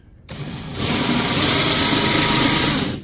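A power drill drives a Trailer Valet JX jack attachment on a trailer: the motor whines up quickly and holds a loud, steady high-pitched spin for a couple of seconds before easing off, with no talking.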